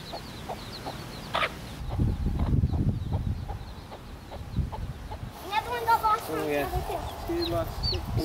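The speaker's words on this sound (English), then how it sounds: "Two got separated from the flock of chicks." Baby chicks cheep in quick high bursts close by while a mother hen clucks among them. The chirping grows busier toward the end over low rustling.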